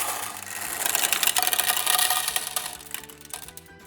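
Marbles clatter and rattle through a marble run machine during a timed competition test, a dense busy stream of small hard clicks that swells and then thins out toward the end, with no talking.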